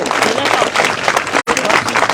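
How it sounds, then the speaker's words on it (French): A crowd applauds steadily at the christening of Samantha Davies' sailing boat for the 2022 Route du Rhum, with dense, continuous clapping broken only by a split-second dropout. "On vous applaudit encore une fois."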